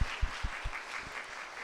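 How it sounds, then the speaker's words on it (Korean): A church congregation at a Sunday service claps in welcome for a first-time visitor, a short, fairly faint burst of rhythmic clapping that fades quickly. "우리 환영의 박수 올려드립니다"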